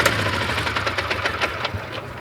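A diesel walk-behind tractor engine runs at a steady idle, giving a loud, close, even knocking chug with no talk over it.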